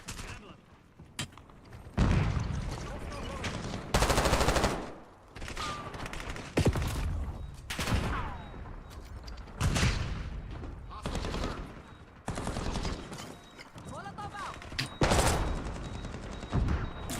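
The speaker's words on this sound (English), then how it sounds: "feel like I hear my gun shoot" Rapid gunfire in an online multiplayer shooter video game, repeated bursts and single cracks over about seventeen seconds, loud and close, with a player talking in between.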